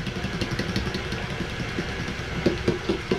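Electric mixer beating butter for honey bunny butter cakes, a steady motorized whir with a rhythmic pulsing churn running throughout, close and moderately loud, with a few sharper bumps near the end.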